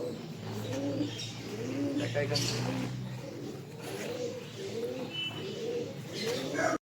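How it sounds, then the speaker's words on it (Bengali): Pigeons at a zoo coo in repeated throaty phrases nearby, mixed with chirps and busy crowd chatter throughout. "এই দেখো পায়রা"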